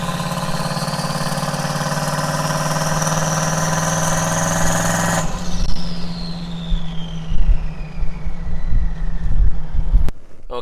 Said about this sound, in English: go from closed throttle to full throttle for a few seconds, and then back to closed again